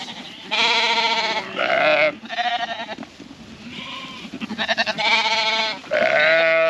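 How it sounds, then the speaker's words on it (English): Scotch Blackface and easy care cross lambs bleat repeatedly in loud, close, overlapping calls, with a few short breaks between cries. "These are the little easy care cross lambs."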